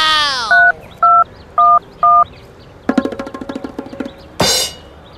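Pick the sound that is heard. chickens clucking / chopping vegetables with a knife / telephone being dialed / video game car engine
telephone being dialed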